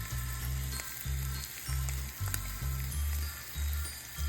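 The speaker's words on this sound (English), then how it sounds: "now I'm going to take the bread and just put it right there in the skillet" Bread is set down into butter in a skillet and fries with a soft, steady sizzle, joined by a low rhythmic hum that pulses on and off underneath, close by and with no voices.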